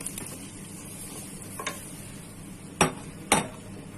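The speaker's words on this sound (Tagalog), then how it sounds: "Ating pong haluin." Pork belly stirred into melted peanut butter sauce for Kapampangan-style kare-kare, giving a few sharp spoon clinks against the pot over a steady low background hum, with no voices.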